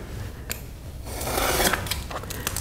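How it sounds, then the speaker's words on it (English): A dull craft blade dragging through foam core board: a close, rasping scrape that builds into a rougher, tearing rub, with small catching clicks along the cut. "And now I'm cutting the foam."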